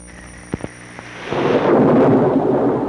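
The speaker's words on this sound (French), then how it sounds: "Oh, j'aimerais que la pluie s'arrête." Rain begins with a couple of soft knocks, then swells into a loud, dense, steady rush that continues to the end.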